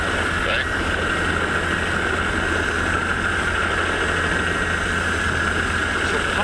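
A helicopter flies during a wolf-darting capture in Wyoming, giving a loud, constant rotor and engine drone that stays even throughout.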